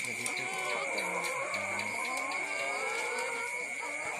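Cattle mooing on a mountain farm, low drawn-out calls repeating a few times in the near distance over a steady high electronic whine and faint background noise, with no talking.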